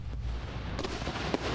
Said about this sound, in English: Fireworks! Exploding rockets! Awesome!